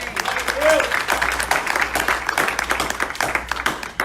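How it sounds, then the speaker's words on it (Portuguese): A church congregation applauds together in a steady patter of clapping across the sanctuary, dense and moderately loud, with a raised voice or two rising briefly through it. "Quem pode aplaudir ao Senhor por isso?"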